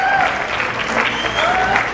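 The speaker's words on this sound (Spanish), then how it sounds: "un aplauso para ellos que están debutando esta noche en el medio" Audience applause for performers debuting at a live mariachi show: loud, sustained crowd clapping with cheering and whistle-like calls mixed in, close and continuous throughout.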